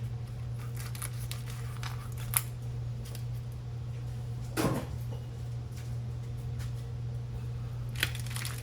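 A chuck roast is pulled from its plastic packaging in a kitchen, giving sparse crinkles and a short tearing rustle over a steady low appliance hum, with a couple of sharp clicks.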